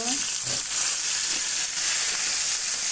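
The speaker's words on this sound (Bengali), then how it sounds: "এখন সবজিগুলো ভাজিয়ে নিব।" Vegetables frying in hot oil in a home kitchen, a bright continuous sizzle and hiss close up, loud and steady for a few seconds.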